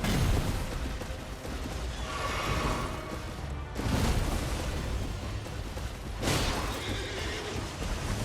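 A horse whinnies in the Elden Ring video game, loud and close, amid dense, noisy game sound with bursts that suggest charging and impacts.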